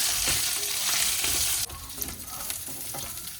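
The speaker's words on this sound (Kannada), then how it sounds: "ರೆಡ್ ಚಿಲ್ಲಿ, ಗ್ರೀನ್ ಚಿಲ್ಲೀಸ್ ಇದನ್ನ ಹಾಕ್ಕೊಂಡು ಹಿಂಗೆ ಹುರ್ಕೊಂಡು ಒಂದು ಸ್ವಲ್ಪ ಹೊತ್ತು ಹುರ್ಕೋಬೇಕು" Red and green chillies stir-fry in hot oil with a loud, dense sizzle, then settle into a slightly quieter crackle with a few stirring scrapes near the pan, with no talking.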